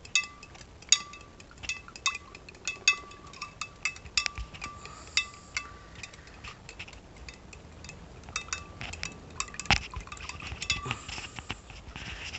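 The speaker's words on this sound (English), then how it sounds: "Give it a good stir." Solution stirred in a container during indium and tin extraction from flat screen TV panels: a long run of scattered clinks and scraping taps, close and irregular, with no talk.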